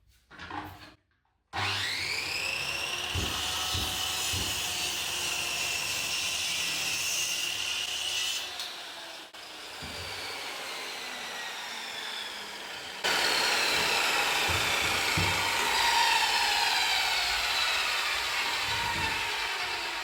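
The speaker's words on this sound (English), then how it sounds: "That's because I'm letting the saw do the work." A power saw cutting wood runs steadily along an aluminium guide rail to finish a cut on a live-edge breakfast bar, loud and continuous with a brief dip and then a louder stretch near the end, no talking.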